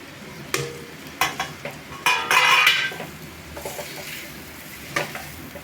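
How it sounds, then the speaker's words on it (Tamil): Egg and vegetables stirred in a hot pan for chapati noodles: bursts of metal scraping and clinking over a light sizzle, close and busy, with no one speaking. "முட்டையை உடைச்சி ஊற்றினோடனே இப்படி கிளறிக்கலாம்."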